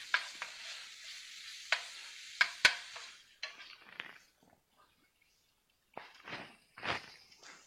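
Onions frying in a pan with fresh pepper, pink Himalayan salt and Italian seasoning, with sharp clatters of stirring and a soft sizzle that falls silent for a moment before stirring and sizzling resume.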